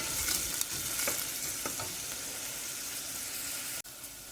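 Carrots sauteing in a pan at the start of a chicken and dumpling soup, a steady broadband sizzle with occasional stirring scrapes, close and continuous, ending with a brief sharp knock.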